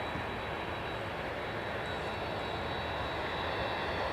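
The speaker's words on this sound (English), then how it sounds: "This aircraft is only 300 to 400 feet away." A plane taxis at MSP airport a few hundred feet away, its engines giving a loud, steady roar with a thin high whine running throughout.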